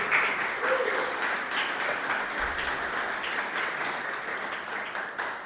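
A church congregation applauds the Lord during a Portuguese-language sermon, a steady wash of many hands clapping at moderate loudness through the whole stretch, with a few voices mixed in.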